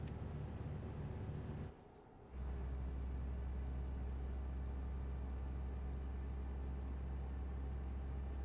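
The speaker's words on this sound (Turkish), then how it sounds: "Bak şu an full gazayım." A car engine held at full throttle in a video game, a steady loud drone with a brief dip in the middle before the roar resumes, and no talk.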